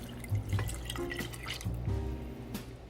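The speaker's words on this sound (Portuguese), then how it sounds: "eu vou acrescentar água em temperatura ambiente" Room-temperature water is added to a pan of mushroom risotto, giving small splashes and drips in irregular bursts, close and fairly quiet.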